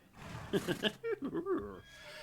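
A horse neighs and whinnies in the West of Loathing video game, a close, clear call with several rising and falling bursts that fade into a quieter, breathy tail.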